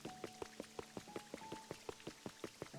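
Rain falling in the video game Pokopia, a steady patter of many small distinct drops tapping at a quick irregular rhythm over a soft background wash, close and moderately quiet.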